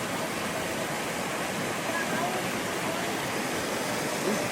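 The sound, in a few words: Little Mashel River waterfall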